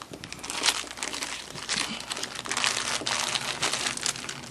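Plastic zip bag from an EMS kit crinkling and rustling steadily up close, with denser bursts of crackle as it is handled and resealed, no voices over it.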